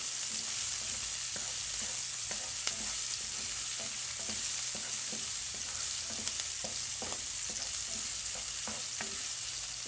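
Pork, garlic and white spring onion sautéing in a hot pan: a steady, even sizzle runs throughout, broken by regular soft scrapes and taps of a spatula stirring, with no talking.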